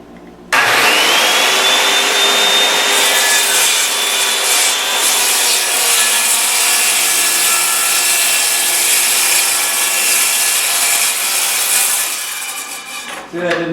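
A saw cuts steadily through a 3/4 inch pine board on a cutoff jig, a loud continuous rasping and whining drone for about twelve seconds, then tapering off as the cut finishes.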